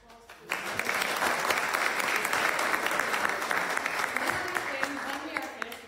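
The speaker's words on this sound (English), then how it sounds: "Another round of applause" An audience at a talk on the pioneering women of the Maryland SPCA breaks into sustained applause, dense clapping swelling suddenly and holding steady for several seconds before thinning slightly at the end.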